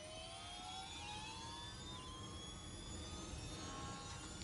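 Sainz's F1 car in the F1 Manager 23 video game at Imola hums with a thin, steady rising engine whine, faint and continuous like a milk float, with no talk.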